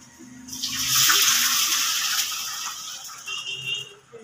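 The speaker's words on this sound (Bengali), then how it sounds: "এবার জল দেবো, যে জলটা ঢেলে দিচ্ছি" Water pours into a pan of frying Maggi noodles, a close rushing splash that swells, holds for a couple of seconds, then tapers off as the pour ends.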